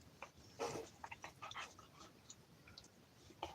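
A puppy whimpers faintly, a scatter of short, high whines and soft breaths spread across a few seconds in a quiet room.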